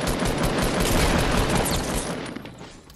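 Dense, continuous SMG fire from a video game shootout, loud and close, rattling steadily before tapering off slightly toward the end.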